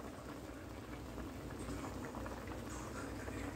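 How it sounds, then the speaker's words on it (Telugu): Water bubbling at a steady rolling boil in a pot of Maggi noodles with vegetables and seasoning powder, a continuous close, even simmer with no voices. "ఇదిగోండి ఫ్రెండ్స్, చూడండి ఉడుకుతుంది."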